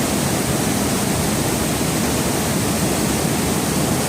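Creek water runs steadily down over rocks outdoors, a dense, even rushing wash that holds constant throughout with no voices or other sounds.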